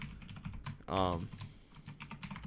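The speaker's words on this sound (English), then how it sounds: "sorry for the keyboard noise if there is some" Clicks and taps on a computer keyboard as commands are entered, quick irregular keystrokes at close range with a brief spoken word in the middle.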